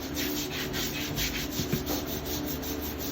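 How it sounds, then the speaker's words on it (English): Rhythmic scraping and rubbing as old whitewash and sealer are stripped from vintage terracotta tile, close and steady with repeated strokes and no talking. "we're stripping all the old whitewash, the old sealer off of here"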